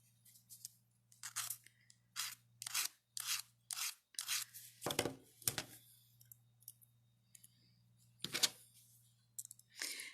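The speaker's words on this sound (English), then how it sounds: "I'm just using a sanding stick for this because it's just minimal that I'm filing off there" Short, scratchy rasping bursts of a small sanding stick filing metal earrings, irregular strokes with pauses between, close and quiet over a faint electrical hum.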